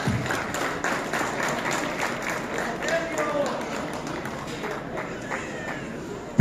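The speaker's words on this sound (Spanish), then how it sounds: "Fuerte el aplauso, chavos." Crowd at a boxing weigh-in clapping and cheering at moderate level, with voices mixed in and a sharp knock at the end.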